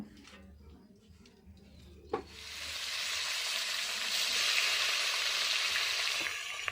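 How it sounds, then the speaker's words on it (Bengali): Japanese puti fish, rubbed with salt and turmeric, hit hot oil, and after a quiet start and a sharp drop-in clatter a loud, steady sizzle swells and holds. "তেল গরম হয়ে গেছে মাছগুলো লাল লাল করে ভেজে নেব"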